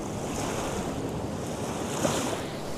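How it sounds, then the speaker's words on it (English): Sea waves churn and foam in a steady, broadband wash, with a continuous roar of surf and wind and no distinct breaks. "The sea foamed."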